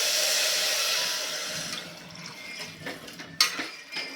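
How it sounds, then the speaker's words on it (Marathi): A rushing pour of two bowls of water into a pot of rice, strong at first and then tapering off, followed by a few light knocks. "त्यासाठी आपल्याला दोन वाटी पाणी घालायचं आहे"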